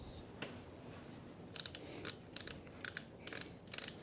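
Bolts being tightened on a Harley-Davidson Milwaukee-Eight engine, quiet at first, then rapid clicking bursts of a ratchet wrench in quick repeated groups, close and fairly soft, with no talking.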